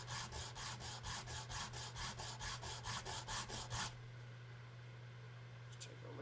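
A viola bridge is sanded in quick, regular back-and-forth rasping strokes, about a dozen close scrapes for four seconds, then stopping to a quiet room.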